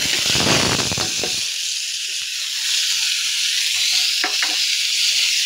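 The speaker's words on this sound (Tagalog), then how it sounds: "Sasangkutsa na natin yung bawang, sibuyas at kamatis." Garlic, onion and tomato sauté in a hot pan with a loud, steady sizzle and hiss, while brief scraping stirs come near the start and again later, close by.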